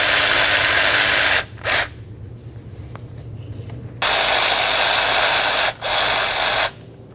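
A power tool backs out a water pump mounting bolt on a Toyota Tundra in loud close bursts: a long whirring run, a short blip, a pause, then another long run and a final short burst.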